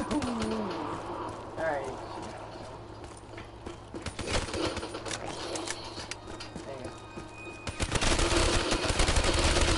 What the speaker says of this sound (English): I am shooting this zombie.